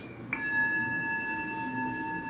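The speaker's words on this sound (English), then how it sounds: "my first and currently my biggest go-to tool is this mindfulness bell on my phone. Now, the bell goes like this." Mindfulness bell chime from a phone app: a single soft strike rings out and sustains as a steady, clear tone over faint room background, with no talking.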